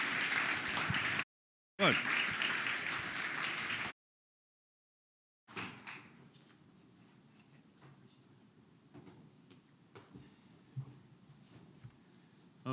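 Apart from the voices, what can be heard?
warm round of applause for speakers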